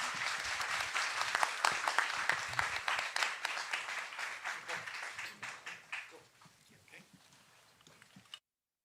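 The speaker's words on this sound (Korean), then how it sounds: "우리 뜨거운 박수로 이렇게 토론 마치도록 하겠습니다" Symposium audience in a hall applauds to close a long panel discussion, a dense, fairly loud burst of many hands that thins out and fades over several seconds before stopping abruptly.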